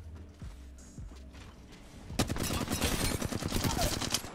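Rapid automatic gunfire from the video game Apex Legends breaks out after a couple of quiet seconds with a few soft thumps, then rattles on as a dense, loud burst of shots.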